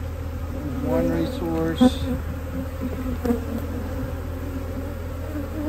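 Honeybees in a hive being split after return from almond pollination buzz steadily as frames are shaken down, a dense close hum with brief thumps, while someone speaks briefly over it.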